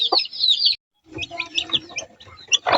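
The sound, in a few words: newly hatched chicks chirping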